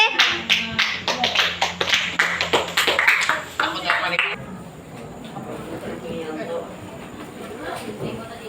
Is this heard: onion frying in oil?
no